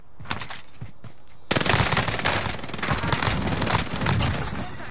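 Rapid automatic gunfire in a first-person shooter video game, sparse single shots at first, then a sudden loud sustained burst of fast repeating fire that continues to the end.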